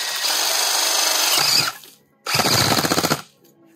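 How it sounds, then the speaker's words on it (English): A power drill bores a planting hole through a paver pathway in two loud bursts, a long whirring run and then a shorter rattling one after a brief pause. "So I drill in."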